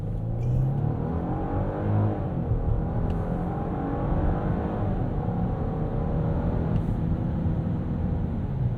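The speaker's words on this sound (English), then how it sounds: "Let's go back into sport mode. We'll do an acceleration here" A 2025 Genesis GV80 SUV in sport mode accelerates hard with a steady, loud engine drone rising in pitch over several seconds, heard from inside the cabin without talk.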